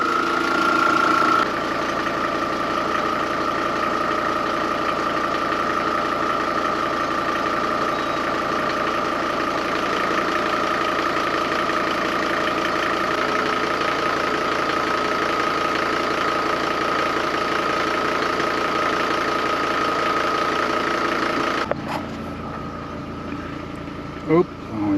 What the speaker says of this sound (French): Là, le moteur tourne.